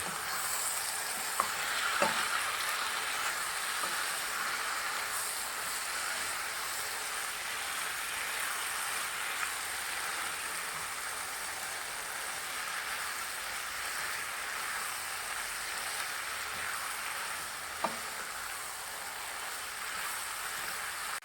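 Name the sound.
mixing green chili and cilantro into frying Goan beef chilli fry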